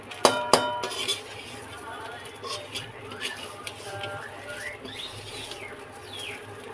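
Spicy pulao with egg and potato being fried and stirred in a pot, two sharp metallic clanks at the start followed by softer scraping and stirring, with a voice talking over it.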